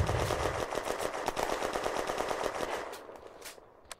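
Machine gun fire from a Char B1 Bis tank in the Firefight war game, set in a 1940 French town, rattles in rapid steady bursts, then breaks into a few single shots.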